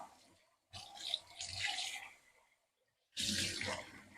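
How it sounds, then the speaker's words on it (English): Tap water runs into a sink while something is rinsed out, in two bursts of broadband splashing separated by a short pause, close and fairly loud. "And I'm going to rinse that out."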